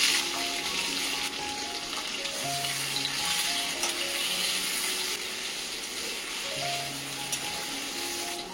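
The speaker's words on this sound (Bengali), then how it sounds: "এবার ওই তেলটার মধ্যেই আমি দিয়ে দিচ্ছি ক্যাপসিকাম আর টমেটো" Capsicum and tomato frying in hot oil give an even, continuous sizzle, moderately close, with soft sustained tones running underneath and no talk.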